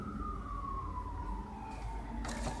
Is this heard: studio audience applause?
no